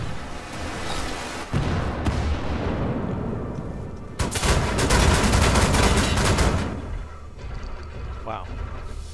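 Heavy shotgun fire in the video game Wolfenstein: The New Order, a dense, loud barrage of rapid blasts that rises to a sustained roar midway through, then eases off near the end.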